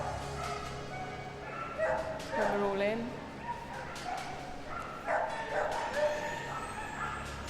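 Excited dogs at a canine cross-country display at Crufts yip, whimper and bark in short bursts, mixed with someone talking over them and background crowd murmur.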